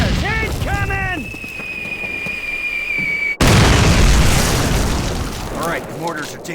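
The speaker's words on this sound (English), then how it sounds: "Mortars! Incoming!" Mortar explosions in the 2003 Call of Duty game land amid shouted soldier dialogue, a sharp blast cutting in midway followed by a loud rumbling roar and debris, over a constant battlefield din.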